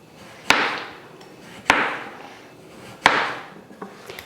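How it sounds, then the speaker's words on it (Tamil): A knife cutting a potato into round slices on a board: three sharp, separate chops about a second apart, each with a short ringing tail, followed by a couple of lighter taps. "இப்போ உருளைக்கிழங்கு நம்ம கட் பண்ணிக்கலாம்"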